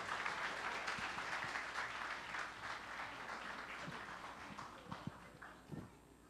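An audience applauds at the opening of the 2016 Šumadija games in Kutlovo, a dense wash of clapping that is loud at first and gradually thins out, with a few scattered claps near the end.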